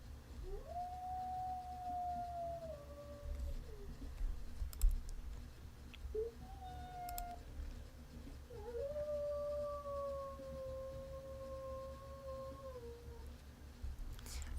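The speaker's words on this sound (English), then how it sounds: "So now I have to pick a howl." Long, wavering arctic wolf howls from a video game rise and hold, then slide down, three in a row with short gaps, thin and slightly squeaky over a low steady hum and faint clicks.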